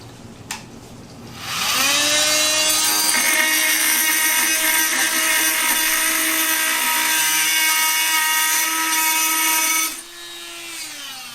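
Dremel MM50 and FEIN MultiMaster oscillating multi-tools cutting through nails: a sustained, loud, high buzzing whine that holds steady for about eight seconds, then cuts off, with no talking.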